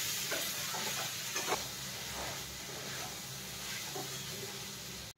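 Mixed vegetables, seven fried kinds with a little sugar added, sizzle steadily in a pan on a gas stove while a utensil stirs and scrapes them with soft, irregular scuffs. Nobody speaks.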